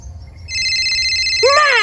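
A telephone rings with an incoming call, giving a steady electronic ringing tone that starts after a brief quiet moment, then chirping, warbling trills rise over it near the end. The ring is fairly loud and close.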